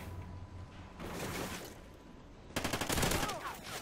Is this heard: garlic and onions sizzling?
no